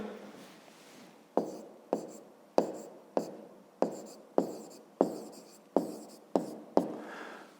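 A pen writes out a math solution by hand, close and clear, with about a dozen sharp, scratchy strokes in a steady rhythm and no talking.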